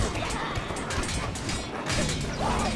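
A ballista is smashed apart in the video game Overlord II, a dense run of crashing, splintering impacts and clatter over steady game noise, loud and close throughout.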